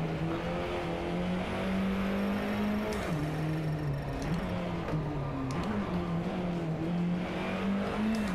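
Alfa Romeo 4C engine revving and accelerating in the DriveClub VR racing game, a loud continuous drone with pitch that rises and dips through gear changes and persists throughout.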